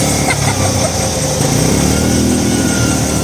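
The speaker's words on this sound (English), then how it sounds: "First time, truck starts." A semi truck's engine, just jump-started with a Ryobi power source, idles loudly and steadily close by, a continuous throbbing drone with no break.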